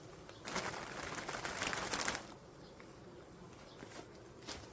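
Honey bees buzzing at an opened hive, a close humming swell for about two seconds that then drops to a faint background drone with occasional brief buzzes.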